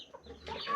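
Chickens climbing roosting ladders in a coop give short, soft clucks and a rustling burst, fairly close and quiet.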